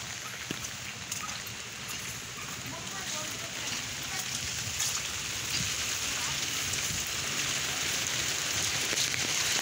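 Steady rain falls on a brick village road in rural Bangladesh, a dense continuous patter of drops close by with wet splashing, unbroken for the whole stretch.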